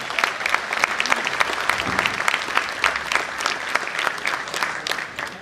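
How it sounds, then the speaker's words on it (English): A school-district audience at a straw poll meeting breaks into a sustained round of applause, a dense, steady clatter of many hands lasting several seconds without letting up. "Give yourself a round of applause."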